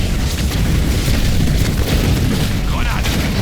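A loud, deep rumbling explosion as an enemy structure is destroyed in the Halo Wars video game, with sustained crackling and booming debris across the whole stretch.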